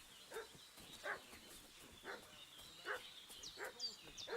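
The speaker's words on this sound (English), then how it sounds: "What's that dog making such a fuss about?" A dog barks in the medieval video game Kingdom Come Deliverance 2, sending out a series of short, fairly distant barks at irregular intervals over faint ambient background sound.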